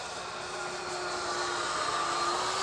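A Stinger 90 electric model jet flies a demonstration pass at a club field, its steady whining ducted-fan tone building slightly louder as it approaches from a distance.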